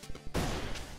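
A grenade blast in the video game Jump Gunners: a short thump, then a sudden loud burst that booms and rumbles for most of a second.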